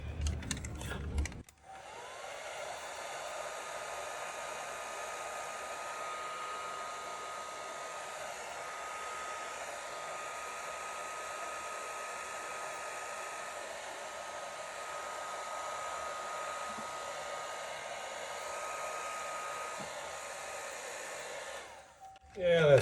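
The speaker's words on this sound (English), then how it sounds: "See what happens if we hit it with a hairdryer." A hairdryer blows steadily across a wet watercolor tree painting, switching on sharply and running as a constant close whirring whoosh for about twenty seconds before cutting off.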